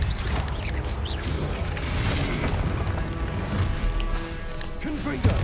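Expelliarmus spell cast during combat in Hogwarts Legacy, with booming magical impacts and crashes layered over a dense game soundscape, loud and continuous, with a sharp hit near the end; a voice speaks over it.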